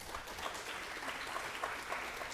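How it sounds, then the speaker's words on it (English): Applause from an audience at a university quantum computing fall fest as someone is invited on stage, steady sustained clapping at moderate level with scattered louder claps and no talking. "A big round of applause, please."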